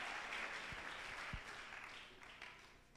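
Audience applause at a French-language speaking event, a faint, steady wash of clapping with a few sharper individual claps, heard from a distance.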